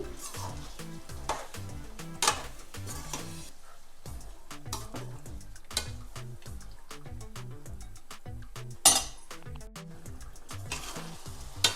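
Mutton curry stirred in a frying pan: a faint sizzle with occasional ladle clinks against the pan, set under steady rhythmic background music.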